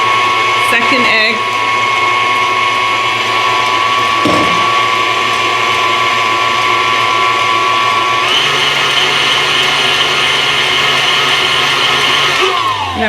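A stand-type electric mixer runs continuously, beating sour cream cinnamon crumb cake batter with a close, steady motor whine and faint rattling, shifting speed partway through, with a voice talking over it.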